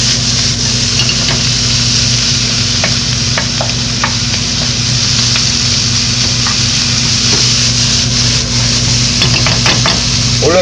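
Onion and green bell pepper stir-fried for Chinese pepper japchae in a hot wok, a loud continuous sizzle with intermittent scraping of the spatula, steady throughout and close, no talking.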